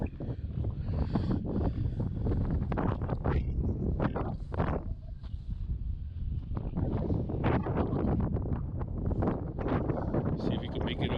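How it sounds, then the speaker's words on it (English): Wind buffets the microphone outdoors in Gorman's Hungry Valley off-road area, a steady, loud low rumble lasting throughout with brief dips and gusting surges. "Starting to get windy."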